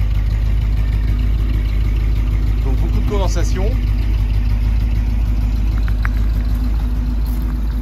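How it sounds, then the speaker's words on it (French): A 1964 Cadillac De Ville coupé engine idles steadily with a low, even rumble on a very cold day, while a person speaks briefly over it. "Le moteur tourne très très bien."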